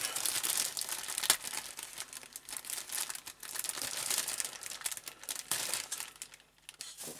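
Plastic bag holding Lamborghini Countach LP 400 model kit parts being opened, a continuous close crinkling and crumpling with a few sharper rustles, no voices.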